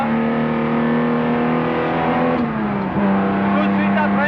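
A 1962 Aston Martin DB4 GT racing engine pulls hard in third gear onboard at Spa, a loud steady drone with a brief dip near the middle before climbing again, with someone talking over it.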